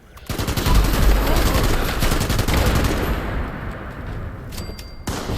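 Rapid machine-gun fire from super mutants in Fallout 76 rattles loud and dense for about three seconds, with scattered booms, then thins into fainter distant shots and clicks.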